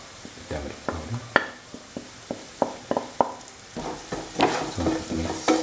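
Spices frying for lentil dal, including Kashmiri chili powder and turmeric, being stirred in a pan with repeated scraping clicks and knocks over a low sizzle, irregular strokes close by, with no talk.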